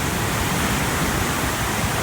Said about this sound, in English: the mighty Nile River, after a series of rapids, has to squeeze through a gap of about 20 feet and falls about 400 feet